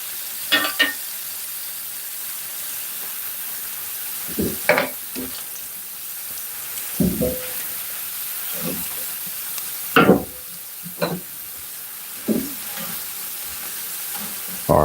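Onions fry in a pan with a low, even sizzle, interrupted by occasional scrapes and clacks of a utensil stirring them, moderately close with no voices.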